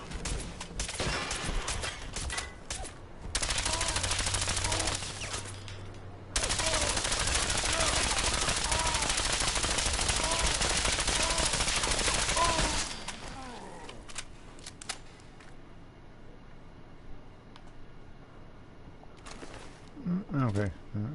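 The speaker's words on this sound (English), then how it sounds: "The super mutant is using a silenced weapon on me." Silenced weapon fire from a super mutant during Fallout 4 combat comes in long, loud bursts of rapid shots, separated by quieter stretches where a voice speaks.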